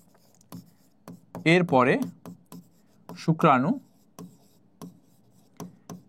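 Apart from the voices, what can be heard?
writing during a lesson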